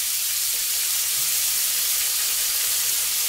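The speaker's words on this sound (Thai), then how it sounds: "ผัดให้เข้ากัน" Long beans and minced pork stir-frying in a pan, giving a steady, even sizzle and hiss that runs unbroken throughout, close and moderately loud with no talking.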